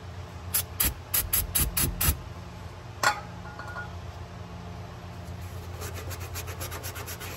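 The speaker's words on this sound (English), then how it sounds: "I'm going to get me a Scotch-Brite pad and get this down to where it's just nice smooth metal" A Scotch-Brite pad scrubs the metal dipstick tube of a 7.3 Powerstroke diesel engine in quick, close rubbing strokes. A single clink interrupts the scrubbing, and a softer, steady scrub follows.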